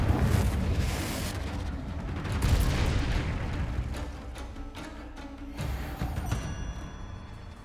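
Confringo blasting curses in Hogwarts Legacy set off fiery explosions, a rumbling burst swelling and fading with another surge midway, followed by sharper crackling impacts and a ringing magical shimmer near the end.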